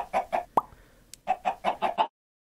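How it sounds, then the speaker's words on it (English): A chicken gives a rapid series of loud, close clucks, then a brief hollow plop and a short pause, followed by another burst of about six rhythmic clucks that cuts off abruptly into silence. "Yo chicken!"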